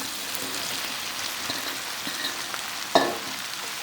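Zucchini and eggplant fry together in a pan for a meat stew, giving a soft steady sizzle with a brief sharp clatter near the end.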